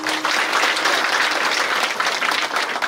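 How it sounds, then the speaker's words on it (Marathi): A kirtan audience of women claps hands together in a dense, steady burst of applause that fills the whole stretch, with no talk over it. "माता भगिनी एकदा टाळ्या वाजवून दाखवा"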